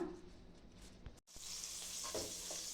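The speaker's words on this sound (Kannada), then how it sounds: "ಇವಾಗ ಇದನ್ನೆಲ್ಲ ಒಗ್ಗರಣೆಗೆ ಹಾಕ್ಕೊಳ್ಳೋಣ" A loud sizzle bursts out as onions and chillies drop into hot oil for tempering, after a brief clatter of stirring, then a steady frying crackle continues.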